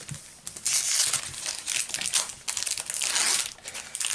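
A Magic: The Gathering Aether Revolt booster pack wrapper is torn open and crinkled, giving a close, loud, continuous crackling foil crumple with several sharper bursts and no talk.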